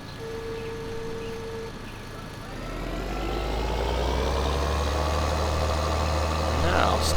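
A tractor engine idles in Farming Simulator 2013, a steady low rumble that swells louder and fuller after a few seconds, with a faint voice briefly over it early on.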